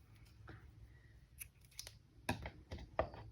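Scissors snip grey yarn during amigurumi crochet work, a few quiet, close, crisp clicks spaced irregularly over near silence.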